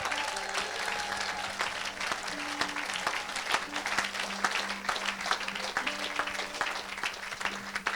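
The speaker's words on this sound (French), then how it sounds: "Quelqu'un acclame le Seigneur." A church congregation applauds and cheers, with sustained clapping and faint voices and a few held vocal tones mixed in, steady throughout.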